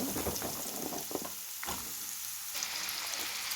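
Potatoes fry with salt and turmeric in a pan, a steady soft sizzle with a few scraping stirs early on, fairly quiet and with no voices.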